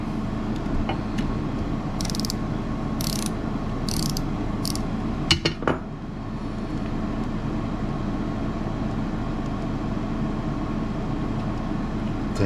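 A ratchet and socket work a 10 millimeter nut on a winch wire terminal, with several short bursts of clicking ratchet strokes and a couple of sharp metallic knocks over a steady low background rumble.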